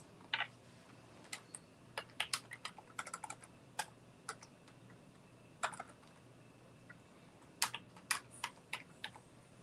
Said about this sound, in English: I'm going to open a new page and just type some text.